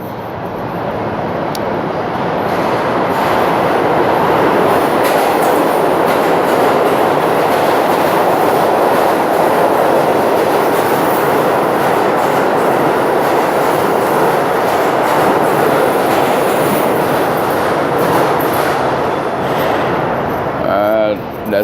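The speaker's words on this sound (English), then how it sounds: "That's the A train blazing all the way up to 207." A New York City subway A train roars past at speed, a loud sustained rumble with rapid clickety-clack of wheels over rail joints that holds steady for a long stretch, heard from up close.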